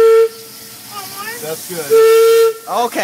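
Steam train whistle blown in two long steady blasts, one at the start and one near the middle, loud and close, with hissing steam and excited voices talking in between.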